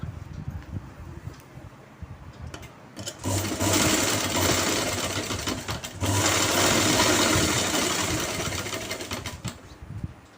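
A domestic sewing machine stitches a pant hem a quarter inch from the edge, with a steady close whirr that starts, runs, pauses briefly around six seconds, then continues before fading, no voices present.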